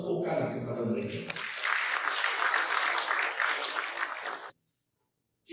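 A crowd at a New Year event applauds front-line workers, a voice trailing off first, then several seconds of sustained mid-distance clapping that cuts off abruptly into silence.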